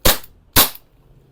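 Two sharp airsoft shots from an EMG Pit Viper or Sand Viper fired through a chronograph, loud and close, about half a second apart.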